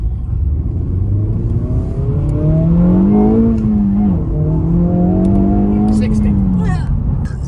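A Honda Civic Type R FL5 engine drones loudly from inside the cabin, its pitch climbing, dipping briefly with a quick rev-matching blip, then rising again before settling.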